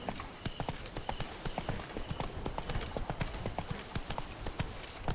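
Roach the horse gallops in The Witcher 3: Wild Hunt, with rapid, rhythmic hoofbeats that carry on steadily throughout at a moderate level.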